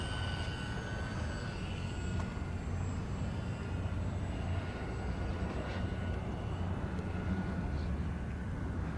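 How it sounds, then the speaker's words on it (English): A Fun Cub RC airplane, an 1100mm EPO foam four-channel kit model, drones steadily overhead as it comes in to land. Its faint electric motor hum sits under outdoor wind noise, with a voice speaking nearby. "I'm going to bring in for a landing after this turn."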